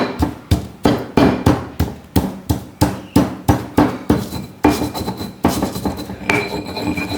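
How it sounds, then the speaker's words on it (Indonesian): Two garlic cloves are pounded with salt in a mortar, giving a long run of sharp, evenly paced thuds that sound close and loud, with faint clinks ringing between strikes. "Ada bawang putih 2 siung, kita halusin dulu dengan garam. Kita tumbuk aja."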